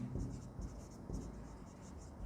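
A pen or marker scratches across a board during an accounting lesson, with soft continuous strokes close by under a steady hiss of room noise.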